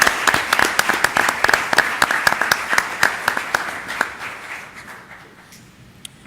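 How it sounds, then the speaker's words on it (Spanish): An audience applauds the moderator and panelists at a Latin American democracy forum in Guatemala, with loud, dense clapping that thins out and fades toward the end. "Por favor, un aplauso para nuestro moderador y panelistas."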